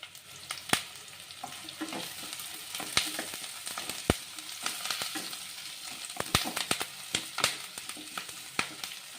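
Curry leaves sizzle in hot oil with onions for Chettinad fish curry, a soft crackling hiss broken by many sharp pops and spits throughout, close and fairly quiet.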